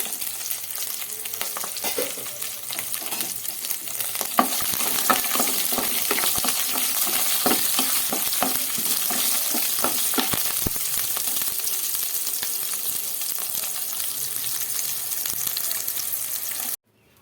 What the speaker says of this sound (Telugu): ఇందులోనే ధనియాలు జీలకర్ర చింతపండు వెల్లుల్లి వేసి వేయించుకోండి